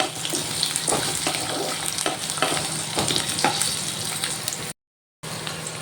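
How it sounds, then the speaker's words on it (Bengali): Potato and radish strips fry in hot oil with a steady, close sizzle, broken by soft stirring scrapes and a brief dropout near the end; no one speaks. "আলু আর মূল্য ভালো করে ভেজে নেব"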